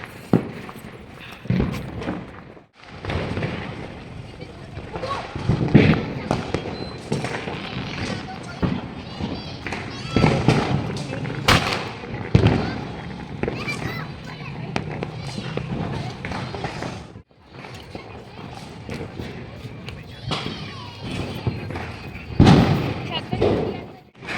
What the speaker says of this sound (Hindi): चारों तरफ धूमधाम से पटाखे फूट रहे हैं